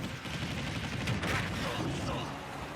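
An explosion from the little robot in Super Smash Bros. booms under a dense, continuous barrage of crackling blasts and game noise, loud and busy for the whole stretch.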